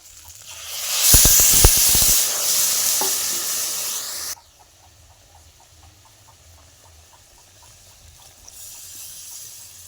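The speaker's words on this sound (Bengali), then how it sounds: "এবার আমি এখানে জল দিয়ে দেব" Water hits a hot pan of spiced oil for Bangladeshi rohu fish curry, bursting into a loud, hissing sizzle with rattling stirring, then cutting off abruptly to a quiet, gentle simmer.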